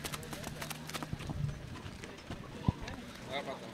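Horses at a horse fair make faint, quick clip-clop hoofbeats on hard ground beneath people talking nearby, with a few louder knocks standing out.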